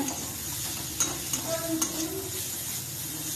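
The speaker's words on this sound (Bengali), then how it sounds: "পেঁয়াজ রসুন কালো জিরে ফোড়ন দিয়ে ভাজছি" Onion, garlic and nigella seeds fry in oil as a tempering for fish curry, a steady close sizzle broken by a few soft clinks and scrapes of stirring, with no talking.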